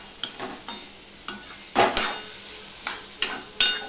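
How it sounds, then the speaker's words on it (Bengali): Sugar, ginger paste and tomato are stirred in a pan for a poha and wheat flour tiffin, a spatula scraping in irregular strokes over a soft sizzle, with a few sharper scrapes standing out close and alone. "দিয়ে সম্পূর্ণটা আমি মিশিয়ে নিচ্ছি ভালো করে"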